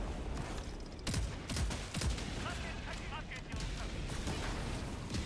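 Repeated heavy artillery shell impacts from a video game barrage, several sharp blasts in clusters over a rumbling battlefield bed, with a voice talking over them.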